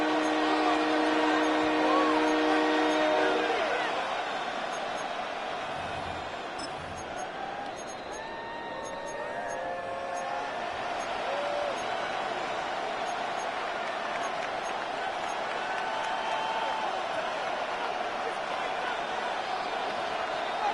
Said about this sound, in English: Getting hard to hear in here. The noise very loud from the crowd.